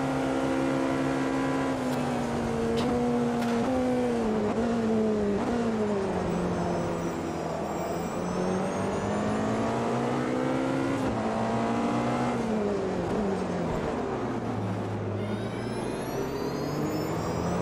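Race car engine in the sim racing game Automobilista 2 at Le Mans, running continuously with rising and falling revs through gear shifts, loud and close with no talk.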